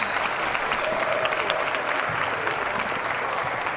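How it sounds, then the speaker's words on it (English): Steady applause from a crowd at a U14 girls' indoor soccer final fills the whole stretch, a dense even patter with no voice standing out. "The crowd applauds"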